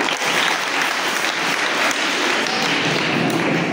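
Audience at a Sunday school children's drama and culture competition applauding steadily, a dense, even wash of clapping filling the whole moment without pause.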